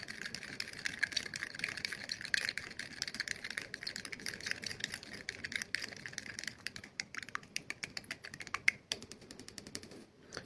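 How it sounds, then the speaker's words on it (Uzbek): A small spoon stirs a citric acid mixture in a container during a gold-recovery process, giving steady rapid clicks and light scraping that grow sharper and more separated toward the end, with no talking. "Aralashtiramiz yaxshilab."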